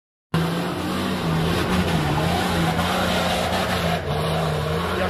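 An off-road 4x4 engine drones steadily with a wavering pitch as the throttle is worked on an extreme off-road course, loud and close after a brief silence at the start.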